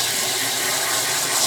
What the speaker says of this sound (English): So it looks like we have one of these awesome sprayer things.